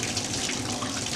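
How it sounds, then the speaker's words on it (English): Tap running warm water into a sink for hand-washing laundry, a steady, loud, full rush of flowing water close by with no pauses. "Start running some warm water."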